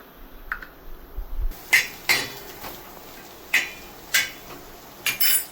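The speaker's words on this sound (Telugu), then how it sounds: "ఎండి ముక్కలు చిన్న చిన్నగా కటింగ్ చేసేస్తున్నాను" A knife chops dried coconut into small pieces for Nellore-style fish curry, landing about six sharp, clear knocks against the board with short uneven gaps, close and alone in a quiet kitchen.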